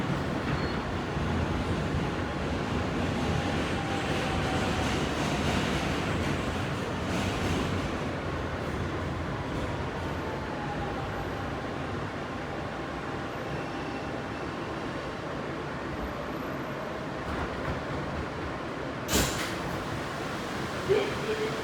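A Kawasaki R160B Siemens subway train on the uptown R line rides between stations, its steady rumble and wheel noise continuous and close, with a brief sharp squeal or clank near the end.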